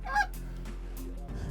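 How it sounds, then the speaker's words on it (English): Several geese honk in a short, loud burst at the start, then keep calling more faintly in the background of an outdoor setting. "Just simply amazing with the amount of geese going on around here"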